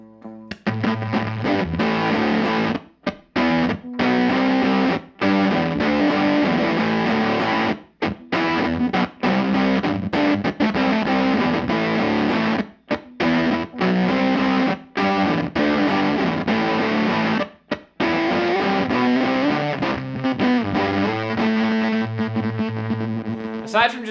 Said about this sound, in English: This next one is on a setting that Z.Vex likes to call Velcro Fuzz.